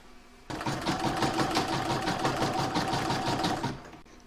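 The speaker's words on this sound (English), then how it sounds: "pop it back into my machine and stitch round number 10" An embroidery sewing machine stitches a round of a patchwork star design, a fast, even mechanical chatter that starts abruptly, runs steadily for about three seconds, then winds down.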